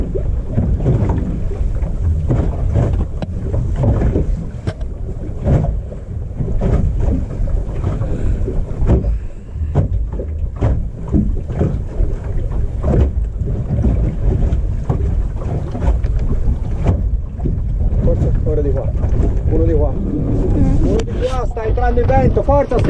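Wind blows hard over a racing sailboat, a loud, constant buffeting roar with water sloshing against the hull and voices calling out now and then.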